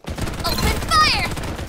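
Rapid gunfire in the Farlight 84 battle-royale video game, a loud dense burst of shots layered with synthetic whooshing effects and sweeping tones.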